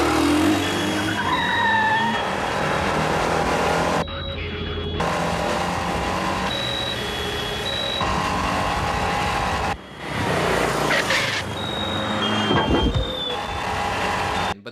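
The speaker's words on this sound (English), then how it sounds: "This one has that kind of car chase" Film car chase in Amsterdam from the 1988 thriller Amsterdamned: loud tyre squeals and skids over roaring engines and rushing traffic, with abrupt cuts and a brief drop in level before the chase noise surges again.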